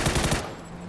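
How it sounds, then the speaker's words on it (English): Video game gunfire during a firefight: a short rapid burst of about five quick shots, fairly close and loud, cutting off abruptly into quiet background hum. "They're shooting me."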